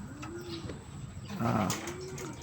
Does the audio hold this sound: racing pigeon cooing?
yes